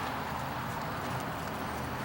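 Horse trotting in a dressage arena, soft rhythmic hoofbeats over a steady background noise, fairly faint and continuous with no talking.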